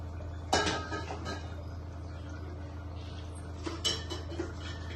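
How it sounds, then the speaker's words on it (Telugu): Two sharp metallic clanks of a pan set down on a stove, close by, with a low steady hum between them. "ముందుగా అయితే మనం స్టవ్ ఆన్ చేసుకుని ప్యాన్ పెట్టుకున్నాం"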